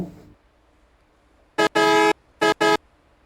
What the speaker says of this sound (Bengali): এবার একটু হর্ন দিয়ে দেখাবো